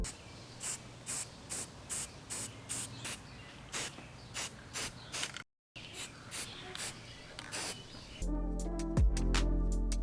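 Repeated short hissing bursts of spray paint on a toy horse in a steady rhythm, pausing briefly, then ending with a clatter and a low thump.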